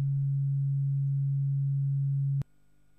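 Two synthesizer oscillators in the Mixtikl app sound together as a steady, pure low electronic tone that holds for over two seconds, then cuts off abruptly with a click.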